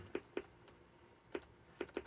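Keystrokes on a ZX Spectrum Next keyboard: five or six separate clicky taps, each short and sharp, arriving in irregular pairs with quiet gaps between them, close up with no speech.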